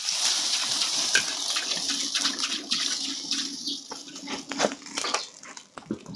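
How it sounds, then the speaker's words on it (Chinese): Water splashes and swirls in a pan as it is scrubbed clean, a rushing, sloshing wash with scraping strokes that fades toward the end. "咱们添点水刷刷锅啊"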